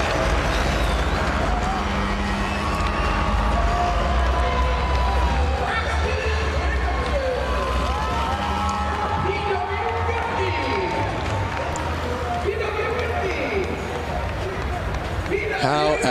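A crowd cheers and roars at the finish of a PW50 youth motorcycle race, a dense continuous wash of noise with a commentator talking loudly over it throughout.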